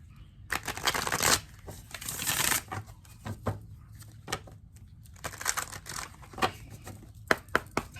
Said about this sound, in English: I'm being asked to shuffle again.